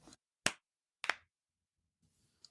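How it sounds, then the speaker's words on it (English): Podcast hosts clap their hands together, sharp and close: two distinct claps about half a second apart in an otherwise quiet room, followed by a faint small tap. "Just keep the clapping."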